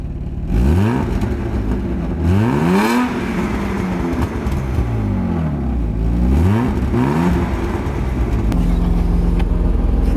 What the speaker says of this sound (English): Mine is a 2-liter 6-cylinder inline 6.